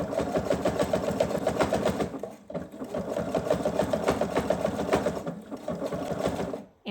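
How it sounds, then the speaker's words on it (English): A sewing machine stitches a thick jelly roll fabric bowl, its rapid mechanical whir running steadily up close. The motor pauses briefly twice before the stitching resumes. "this is how I'm holding the bowl up toward the sewing machine to kind of get the walls of the bowl to start going upward"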